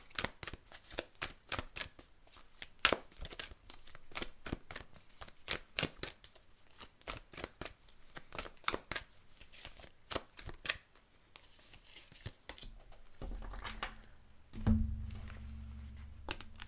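Astro oracle cards are shuffled by hand in long runs of quick riffling flicks and slaps, close and fairly quiet, with a brief louder rustle and handling bump near the end and no talking.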